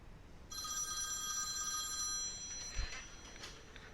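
An outgoing call placed from a phone dialer produces one electronic telephone ring lasting about two seconds, faint and steady, followed by quiet line noise and a soft click.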